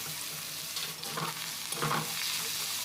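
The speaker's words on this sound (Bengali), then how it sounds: "আলুটা এইভাবে নাড়াচাড়া করে ভেজে নিতে হবে" Thin-cut potatoes sizzle steadily in a pan as they are stirred, a continuous close frying hiss with a couple of soft scraping stir movements.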